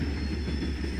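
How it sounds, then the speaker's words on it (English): High-speed train rolling along its line past gardens, a continuous low rumbling roar with steady rail noise and a faint high whine, close and unbroken for the whole moment. "It is around the tree garden and the train line in high speed in the train."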